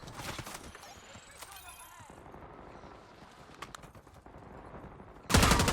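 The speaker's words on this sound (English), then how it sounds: "Not great shots, just trying to pre-fire where I saw him" Gunfire from SMG shots in the Warzone video game, a few sharp bursts early on and a louder burst at the end, with quieter game ambience between.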